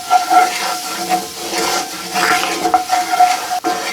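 Flour stirred and browned in a skillet, a spoon scraping the pan steadily with a soft sizzling hiss and occasional metallic clinks, close and moderately loud.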